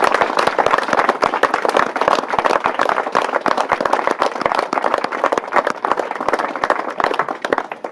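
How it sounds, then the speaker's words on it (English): An audience at Anne's tea party claps steadily and loudly, dense overlapping hand claps filling the whole stretch without a break. "Give her a clap."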